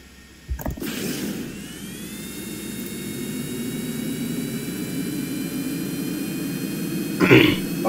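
A MiG jet in Kerbal Space Program roars on its takeoff run, a steady loud engine drone with a rising whine, opening with a sharp burst and ending with a brief noisy flare.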